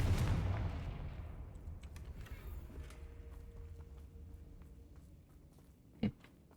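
A Confringo fire spell blast in Hogwarts Legacy hits as one loud burst at the start and then rings away, with a second short, sharp impact near the end over a low rumbling backdrop.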